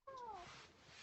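A cat gives a single short meow, a faint falling cry lasting under half a second, followed by quiet background hiss.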